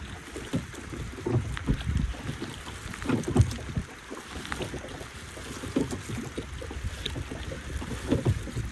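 Water laps and splashes softly around a small boat moving across a lake at Gavi in Kerala's Periyar Tiger Reserve, with light wind noise and gentle knocking throughout.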